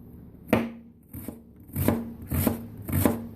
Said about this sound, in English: And now I'm going to cut very, very fine.